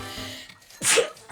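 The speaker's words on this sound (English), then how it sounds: "I feel like I'm about to sneeze." A single sharp human sneeze near the end, preceded by a brief breathy build-up, close and fairly loud against a quiet room.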